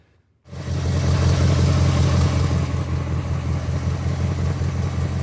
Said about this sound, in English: Okay, forgive the engine noise